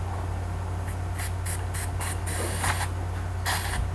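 Cleaner sprayed onto an ink stain on a shirt: a run of short, hissing spray bursts, some quick and doubled, close up over a steady low hum.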